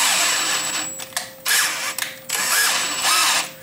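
A power drill tapping a hole in metal for a knife grinder part whirs in several short bursts with brief pauses between them, close and fairly loud, with faint mechanical clicks.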